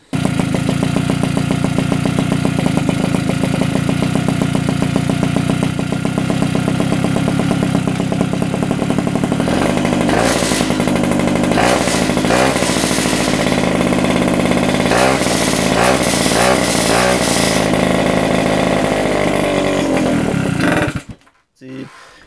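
A rebuilt mobcross moped engine starts and runs steadily, its loud two-stroke exhaust buzzing for about twenty seconds with several sharp revs and blips in the second half before cutting off abruptly.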